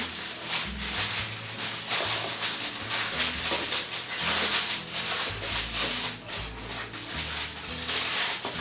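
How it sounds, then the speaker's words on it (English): Aluminum foil crinkling and rustling as it is pressed tightly over a dish of chicken and rice, close, uneven crackles and rubs coming in bursts, no talk. "we're going to take tin foil, aluminum foil, and we're going to cover it tightly with aluminum foil"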